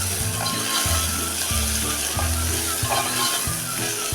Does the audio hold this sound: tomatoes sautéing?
yes